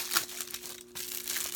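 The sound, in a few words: unwrapping a Blu-ray case, plastic crinkling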